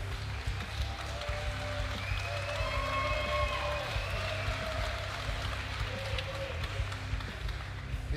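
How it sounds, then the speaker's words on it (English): An audience at a Patong Combat MMA and kickboxing event applauds, a steady sustained patter of clapping and crowd noise with faint tonal music or announcer tones threaded through, continuous and moderately loud. "round of applause for these two young ladies"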